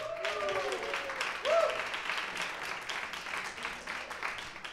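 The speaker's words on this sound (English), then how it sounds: "Give him a big applause" Audience applause for the TradeMob CEO at his Friedrichstraße office event, a broad steady wash of clapping lasting throughout, with brief tonal voices or whistles near the start.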